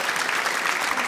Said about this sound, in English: Give them both a huge round of applause for me.